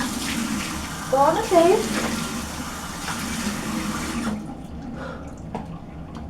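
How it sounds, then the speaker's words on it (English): A bathroom tap runs cold water for a face rinse in a skincare routine, hissing steadily and close by. The flow stops abruptly near the end, and a voice speaks briefly over the running water. "we're going to wash this off. We're going to use cold water"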